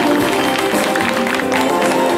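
Applause from a gathered audience welcoming the deputy county magistrate at a 2013 Taitung County workshop showcase and press event, dense continuous clapping at steady loudness throughout, with no speech rising above it.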